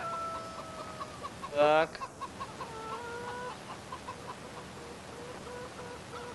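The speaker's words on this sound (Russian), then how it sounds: "Опа, у нас здесь и петух." Chickens and a rooster in the farming game Farming Simulator 2015 give brief clucks against a steady ambient background, with one louder burst near the middle; someone says a short word.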